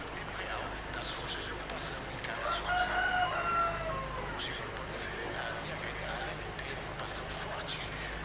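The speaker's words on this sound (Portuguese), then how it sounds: "O Galo formando aura de fundo em Gotham" A rooster crows once in the background, faint and distant beneath a steady wash of noise from a Batman Arkham Knight game session.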